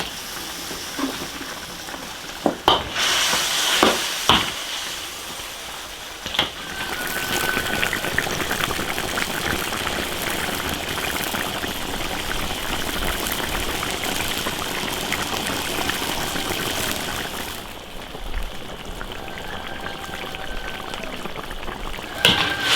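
Rooster chicken stir-fries with green and red peppers in an iron wok, making a loud continuous sizzle with stirring and scraping clatter near the start.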